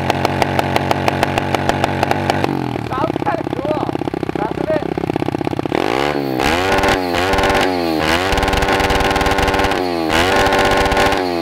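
Motorcycle engine running, close and loud, its rapid firing pulses idling and then revved repeatedly so the pitch sweeps up and down in bursts.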